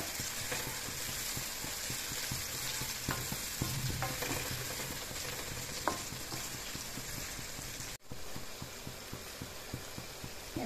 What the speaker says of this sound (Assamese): যেতিয়ালৈকে পিঁয়াজৰ কালাৰটো ব্ৰাউন নহয় তেতিয়ালৈকে পিঁয়াজখিনি ভাজি ল'ব